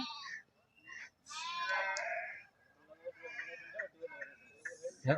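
Several sheep bleat in bursts at a livestock market, some near and some farther off, with quiet gaps between calls.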